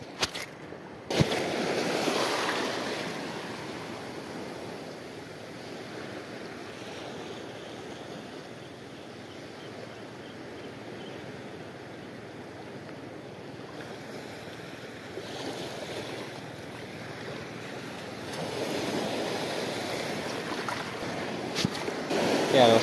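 Strong ocean waves and gusty wind at a shoreline fishing spot, a continuous roaring wash with heavy wind buffeting on the microphone and surges of surf near the start and end.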